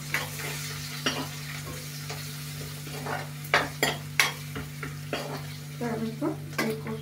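Garlic frying in a pan with ground coriander and garam masala, a steady low sizzle broken by several sharp scrapes and clatters of a spatula stirring against the pan.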